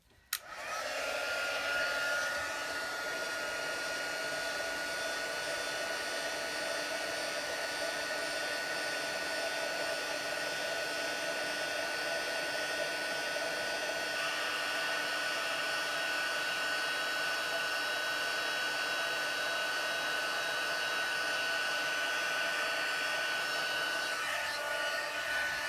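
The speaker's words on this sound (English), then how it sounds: "And let's heat emboss this." A heat embossing tool blows hot air in a steady, loud whooshing drone with a faint high whine, starting abruptly and running unbroken for about 25 seconds, with no talking.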